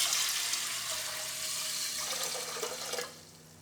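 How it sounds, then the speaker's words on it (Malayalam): Water runs steadily into a cooking pot for green gram curry, a close, even gushing pour that cuts off near the end. "നമുക്ക് കുറച്ച് വെള്ളം കൂടുതൽ ചേർക്കാം."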